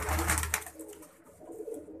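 Soft, low pigeon cooing repeats close by, with a faint rustle and background murmur in between.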